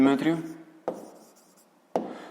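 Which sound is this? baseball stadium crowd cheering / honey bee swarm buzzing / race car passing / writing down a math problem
writing down a math problem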